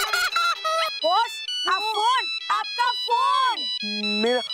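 A phone ringtone plays a bright, bouncing electronic melody of short repeated notes, loud and close, with no talking over it.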